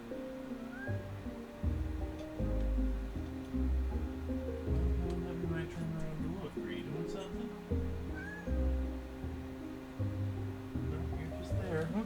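A cat howls and meows repeatedly indoors, drawn-out wailing calls rising and falling over a steady layer of game music, with a person's voice talking throughout.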